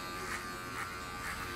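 An electric hair clipper buzzes steadily while cutting hair during a quick barbershop haircut, its hum pulsing slightly as the clipper is lifted through the hair, close and alone.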